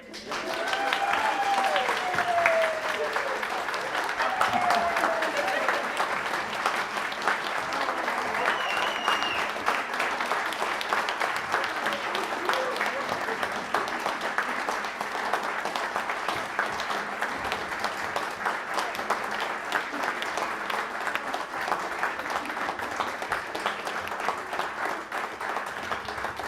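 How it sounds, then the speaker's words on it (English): Audience at a Sunday Unitarian Universalist service giving a long, sustained round of applause, steady and fairly distant, with faint voices occasionally rising above the clapping. "A round of applause."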